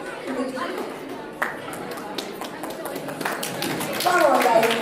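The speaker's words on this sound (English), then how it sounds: "Please give a huge round of applause to the team." Scattered clapping for a Bollywood and Bharatanatyam dance team at a conference, uneven claps and taps from a modest crowd mixed with chatter and voices, swelling somewhat louder near the end.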